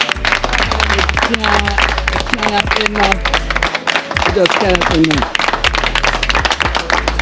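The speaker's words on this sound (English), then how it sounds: "A round of applause" A crowd at an outdoor community donation event applauds with brisk, rhythmic clapping that runs the whole time under loud, overlapping talking and calling voices.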